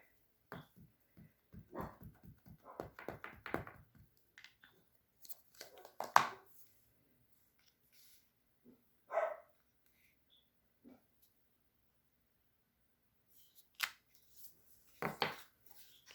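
Scattered faint barks and sharp bursts of noise come from a distance, in irregular clusters separated by quiet gaps.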